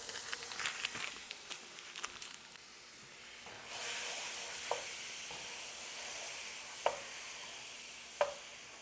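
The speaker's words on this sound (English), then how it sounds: "Whole stick of butter, alright? Chunk it on in there. Let that start melting." A whole stick of butter sizzles and hisses as it melts in a medium saucepan over medium-low heat, the frying noise swelling after a few seconds into a steady close hiss with occasional sharp pops and spits.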